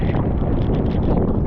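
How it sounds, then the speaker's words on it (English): Strong storm wind buffets an anchored sailboat in heavy rain, a dense, constant roaring rush of gusts hitting close to the microphone without a break. "We got wind, we got rain."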